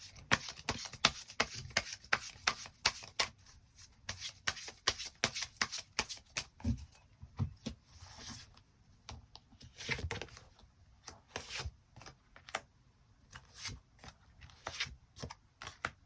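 Tarot cards shuffled and drawn by hand, a steady run of crisp riffling slaps and soft rubbing swishes close up, quick bursts with brief pauses in between, with no voices.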